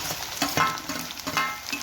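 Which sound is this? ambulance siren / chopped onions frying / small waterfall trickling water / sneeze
chopped onions frying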